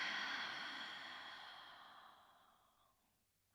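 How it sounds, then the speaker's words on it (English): A slow, deep exhale out through the nose and mouth during a gentle yoga breathing exercise, a soft close breathy rush fading steadily over about three seconds. "Take a deep breath in through your nose, feeling your belly expand underneath your fingertips. And then exhale it out."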